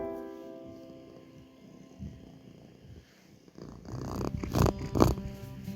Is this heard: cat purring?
yes